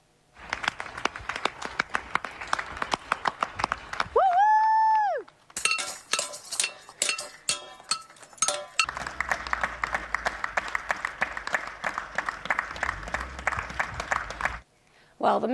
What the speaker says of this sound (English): thousands of you across London and the South East joined in with the national round of applause for NHS staff